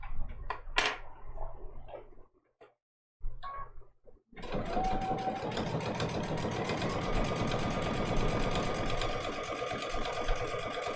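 A sewing machine stitches appliqué on black fabric, a close, fast, steady mechanical whir with rhythmic needle chatter that starts after a few short stops and then runs continuously.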